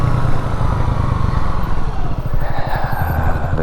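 Honda CB250RS motorcycle engine running steadily while riding, a loud continuous low thrum with rapid pulsing exhaust beats and wind noise throughout.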